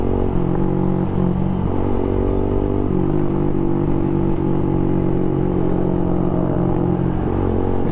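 Suzuki Gixxer motorcycle with a full-system exhaust and canister, engine droning steadily at high RPM with a deep, continuous rumble throughout, close and loud with no talking.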